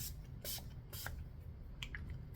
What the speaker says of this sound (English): My only finishing spray is from Scandinavia.